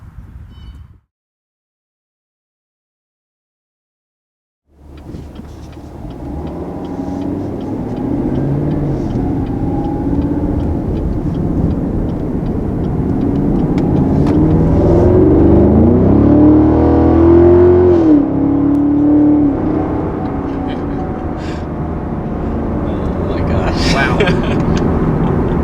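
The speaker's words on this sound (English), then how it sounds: "This is the SS Camaro. As you can hear by that exhaust note," A 2020 Chevrolet Camaro SS convertible V8 rumbles steadily after a few seconds of silence, building slightly in loudness and pitch midway, with voices apparently talking over it.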